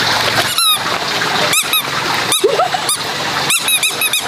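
Ducklings on a rural farm give short, sharp, high calls in quick irregular bursts, some doubled or tripled, close by and loud.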